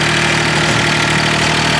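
Loud, close tractor engine running at a steady idle, a dense rumbling drone with a regular low throb and no voices over it.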